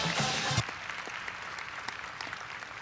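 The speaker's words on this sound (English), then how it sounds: "Let's have another round of applause for our student athletes from Garland High School." A high school signing-day crowd applauds Garland High School student athletes, with a brief burst of clapping at first and then a quieter, thinning patter.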